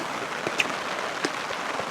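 Rain beginning to fall during fishing on the Dnipro river outdoors, a dense steady patter with a few distinct nearby drop taps.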